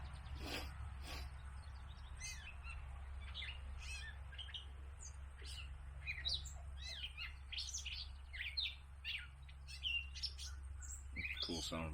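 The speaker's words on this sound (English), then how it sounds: "Cool sounding bird." Outdoors near a shelter build, a bird repeatedly chirps and squawks in scattered bursts, moderately close, over a constant low rumble and faint background noise.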